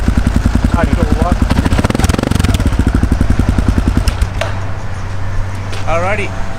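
A Kawasaki KLR 650 motorcycle fitted with a louder, lighter aftermarket exhaust chugs nearby in a steady, loud thumping rhythm that eases to a lower idle partway through, with a voice speaking over it.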